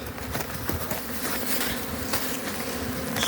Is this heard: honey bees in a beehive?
yes